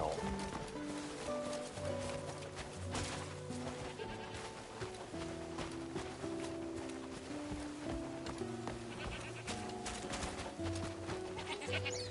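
Several goats, including a young kid, bleat repeatedly in a farm scene in Crimson Desert, loud wavering cries overlapping in quick succession over a busy background of other animals.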